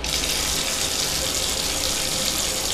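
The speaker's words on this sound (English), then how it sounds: "Water runs." Water runs steadily from a bathtub tap in a continuous, even hiss and splash, close by, with no voices.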